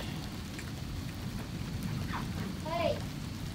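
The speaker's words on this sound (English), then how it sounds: "nasty supercell fixing to pass by us here" Heavy rain pours steadily from a passing supercell thunderstorm, a dense wash of close downpour with low rumbling underneath that swells near the end, a few faint chirps over it.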